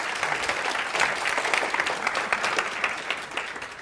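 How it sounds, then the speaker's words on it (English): Audience applause from a crowd at a hypnosis demonstration, steady dense clapping throughout, fairly loud and sustained without voices over it. "Give him a nice round of applause."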